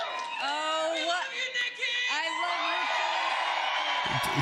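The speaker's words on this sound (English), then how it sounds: "It's the same guy yelling as soon as everyone gets quiet." A single man in a political rally crowd yelling out loud, drawn-out whooping shouts rising and falling over a few seconds, fairly close and dominant, with a murmuring crowd behind and a brief knock at the end.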